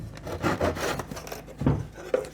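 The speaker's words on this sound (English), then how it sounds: "My saw doesn't want to go in there." A hand saw makes the final cut through wood on a J-Class yacht keel during modification, giving a few uneven rasping strokes, close and fairly loud, with no talking.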